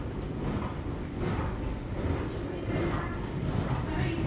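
A train carrying riders to New York rumbles with a steady, low rolling roar and faint rhythmic clatter throughout, heard from inside the car, with people talking quietly over it.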